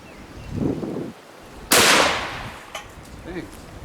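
A single close, loud .44 Magnum jacketed hollow point gunshot cracks against a ballistic shield, a sharp blast with a decaying ring, followed by faint clatter and murmured voices.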